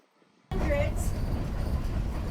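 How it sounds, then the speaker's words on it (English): A steam train is stopped at a water stop on the Chama line in New Mexico. After a brief quiet moment, a steady loud rushing and hissing starts abruptly and continues. "Steam engines need water, and that's what we were getting here."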